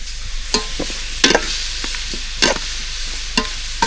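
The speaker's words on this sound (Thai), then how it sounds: "นี่กำลังคั่วซีนหมูทางนี้" Pork being stir-fried in a pan over a natural wood-fired stove, with steady sizzling and several louder scraping stir strokes at irregular intervals, close and alone.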